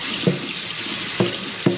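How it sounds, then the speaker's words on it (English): Hot water runs steadily from a kitchen tap into a sink before a cutting board is washed with soap, a constant close hiss broken by a few brief clunks and taps. "Let's put our hot water on with our soap and clean off our cutting board"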